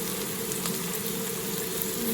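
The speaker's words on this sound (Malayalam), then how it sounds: "പച്ചമുളക് നന്നായിട്ടൊന്ന് വഴറ്റി കൊടുക്കാം." Green chilli, ginger and garlic sautéing in oil in a pan, making a continuous close, even hiss and bubbling sizzle without talk.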